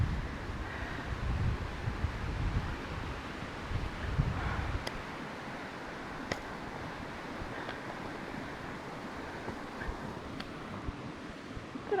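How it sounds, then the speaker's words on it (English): Wind buffets the microphone in a steady low roar, with heavier gusts in the first few seconds and surf-like rumble throughout. "It's kind of windy. Hopefully you can still hear me, but it's a little windy down here."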